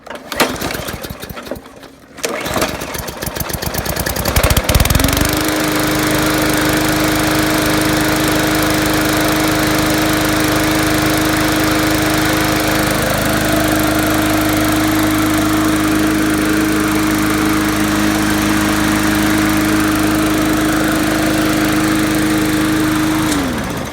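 An MTD Yard Machine lawn mower with a B&S-style carburetor, freshly cleaned and running without its air filter. It starts after a few rough attempts and settles into a loud, steady, high-pitched engine drone.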